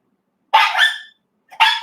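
A small dog gives two sharp, close yips and barks, the first drawn out and the second short, with no talk over them.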